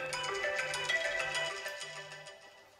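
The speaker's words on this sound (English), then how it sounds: "Baby, your phone is ringing." A mobile phone ringtone plays nearby, a repeating electronic melody of short tonal notes that fades slightly toward the end, with no speech.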